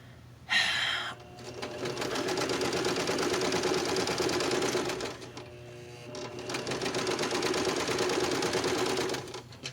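A secondhand sewing machine runs in two long stitching bursts, a steady whirring motor hum with a brief pause between, close and fairly loud, while stitching fabric for a Halloween placemat.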